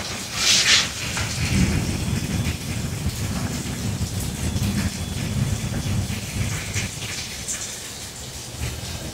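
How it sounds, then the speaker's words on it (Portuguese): Steady rain falls outdoors, a dense, continuous hiss and patter with a low rumbling undertone, with no voices. "Olha a chuva"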